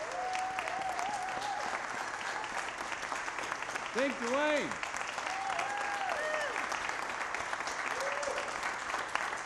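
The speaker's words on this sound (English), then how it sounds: "Now, hold your applause for a second." An audience applauds a church choir and band at a performance of God's Trombones, a steady wash of clapping throughout while someone speaks over it.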